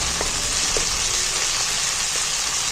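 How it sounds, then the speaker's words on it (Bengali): Garlic and ginger paste fries in oil with a close, steady hissing sizzle and a few soft pops. "এক চামচ রসুন বাটা দিচ্ছি এক চামচ আদা বাটা দিচ্ছি আর এটা তেলের মধ্যে একটু ভেজে নিচ্ছি"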